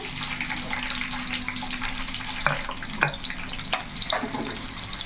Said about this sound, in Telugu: ఈ ఉల్లిపాయ అనేది మనకి బాగా వేగాలి బ్రౌన్ కలర్లో వచ్చేయాలండి